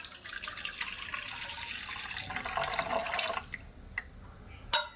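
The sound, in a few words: water being strained into a bowl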